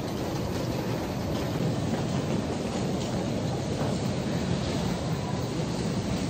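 Taipei MRT metro train ride, a steady, loud broadband rumble of rail travel with faint clickety-clack running continuously without pause.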